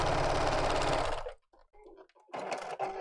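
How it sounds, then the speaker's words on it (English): Sewing machine stitching both sides of a fabric channel, running loud and steady for just over a second, then stopping; faint handling noises follow before a short burst of machine stitching resumes near the end. "sewing around both channels, or both sides of the channel"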